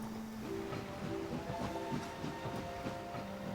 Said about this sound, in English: Now let's have a look at our little trains.